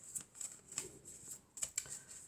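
Playing cards being shuffled by hand at a table, several quick crisp riffles in bursts with short pauses between, quiet and close.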